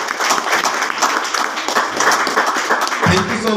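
An audience at a talk on health supplements claps in a dense, sustained round of applause that stays loud throughout. It tapers off sharply near the end.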